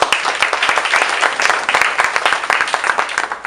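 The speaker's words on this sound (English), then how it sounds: "Let's give them a round of applause." An audience at a campus talk gives a round of applause, with loud, close clapping in which individual sharp claps stand out within a busy, continuous patter.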